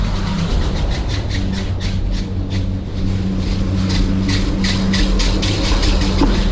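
Rubber tire conveyor wheels in a cable car station run with a steady mechanical hum, and a rapid series of rhythmic thumps and clatters rolls past nearby.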